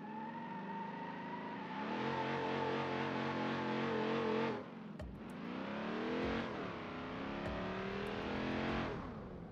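A Chrysler 300 with a Hemi V8, rear-wheel drive, revs and accelerates in BeamNG Drive, a smooth rising engine drone with climbing gear pitches, a brief drop between shifts, then another sustained pull, steady and up close.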